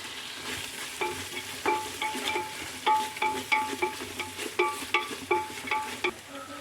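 Tomato frying in a pan for a vegetarian Palakkad-style pickle curry, stirred with repeated scraping strokes of a metal spoon over a steady low sizzle; no one speaks.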